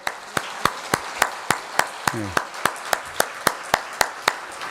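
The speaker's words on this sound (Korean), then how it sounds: "우리 청년들을 한번 격려하면서 한번 박수할까요?" A church congregation claps for the youth group at an afternoon worship service: crisp, evenly spaced claps in a steady unison rhythm, about four per second, with a brief voice rising in the middle.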